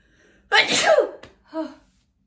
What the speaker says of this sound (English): wait, I have to sneeze.